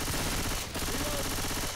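Rapid, steady blasts of shotgun fire in Left 4 Dead 2, loud and close, running without pause for under two seconds.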